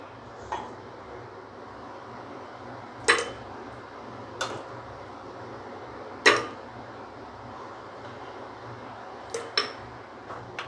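Sweet corn soup being plated, with a handful of sharp, scattered clinks of dishes and cutlery spaced a few seconds apart over a low steady background hum.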